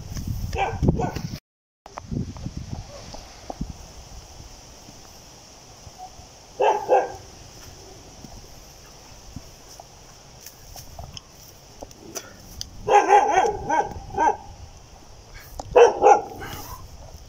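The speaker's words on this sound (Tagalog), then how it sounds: "tinatahol na kami ng aso" A dog barks in a few separate bursts, some in quick clusters, fairly close, with quiet ambient noise between the outbursts, outdoors near rice fields.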